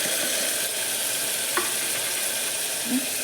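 Masala being stirred into a pot of sambar, a continuous soft hiss of simmering or frying with a couple of faint scrapes of the spoon, close and even throughout.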